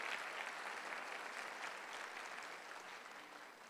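A church congregation gives a sustained, even round of welcoming applause, soft and somewhat distant, at the start of a sermon.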